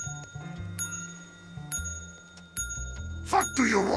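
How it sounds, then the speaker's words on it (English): A service bell in the Dark Deception video game dings three times with bright, ringing strikes spaced about a second apart. Each ring decays slowly, and a burst of noisy game sound follows at the end. "Nice bell."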